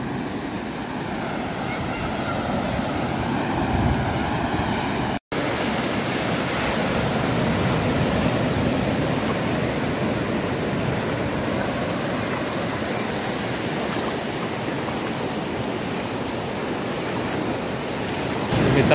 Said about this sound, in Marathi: मित्रांनो असा हा अथांग समुद्र कुणकेश्वरचा.